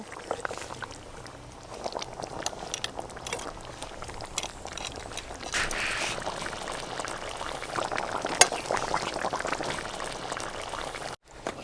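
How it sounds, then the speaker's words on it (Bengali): Pangas fish curry broth boiling in a pot over a fire: a continuous bubbling simmer with soft liquid gurgles that swell and grow busier toward the end, with a few sharper splashy blips and no voices. "ঝোল খুব ভালোভাবে ফুটে গেছে, এবার মাছ দিয়ে আর একটু ফুটিয়েই নামিয়ে নেব"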